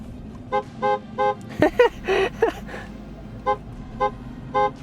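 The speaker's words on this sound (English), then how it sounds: "The honk is so funny. It feels like a Corolla honk" A Tesla Cybertruck horn sounds in a run of short, evenly spaced toots heard from inside the cabin, with a brief burst of voices in the middle of the honks.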